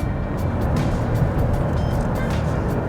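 2020 Chevy Blazer RS driving through twisty roads in sport mode, heard from inside the cabin as a steady low engine and road rumble.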